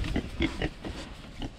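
Pigs in a backyard pen give low, rhythmic grunts and snuffling oinks, several short calls close by with brief pauses between them.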